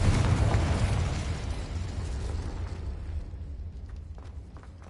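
Loud fiery blast from the Confringo spell in the Hogwarts Legacy video game, a booming burst at the start that rumbles and slowly fades over several seconds, with no talking.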